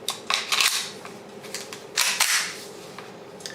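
Walther PPQ pistol in .22 LR, loaded with inert snap cap dummy rounds, giving a few sharp mechanical clicks and snaps close up, spaced irregularly with no talking.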